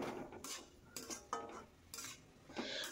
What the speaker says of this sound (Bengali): আবার একবার নেড়ে নেব।